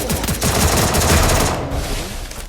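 Rapid bursts of automatic gunfire in the Free Fire video game, loud and close, rattling in quick succession for a couple of seconds before easing off.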